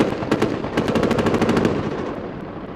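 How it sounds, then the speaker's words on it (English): A machine gun fires a rapid burst of roughly a dozen loud, close rounds in quick rhythm at a special operations forces event, then the shots stop and echoes fade. "He's firing off a few rounds."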